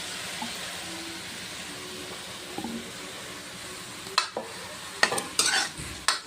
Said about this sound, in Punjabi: ਇਹਨੂੰ ਚੰਗੀ ਤਰ੍ਹਾਂ ਭੁੰਨ ਲਾਂਗੇ ਇਸ ਪਿਆਜ਼ ਨੂੰ